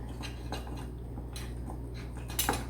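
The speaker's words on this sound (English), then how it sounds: "I use a wooden a stick to stir everything together. Stir, give it a good stir." Soft, irregular scraping and tapping as a wooden stick stirs a mixture in a bowl, quiet close-up strokes over a low steady hum.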